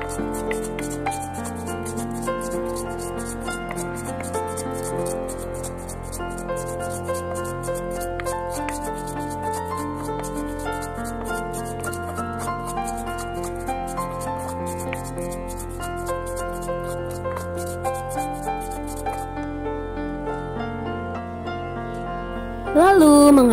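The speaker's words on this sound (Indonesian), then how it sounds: "Langkah selanjutnya adalah menghaluskan ketumbar. Kita haluskan sampai benar-benar halus." Coriander seeds are ground by hand, giving a continuous close rubbing and grinding in a steady back-and-forth rhythm, with a brief louder knock right at the end.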